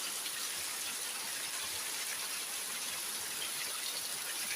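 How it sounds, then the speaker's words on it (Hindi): Heavy rain falls in a steady, dense hiss with no pauses, an even wash of drops on surfaces without voices. "आज काफ़ी दिनों के बाद इतनी बारिश हो रही है दोस्तों।"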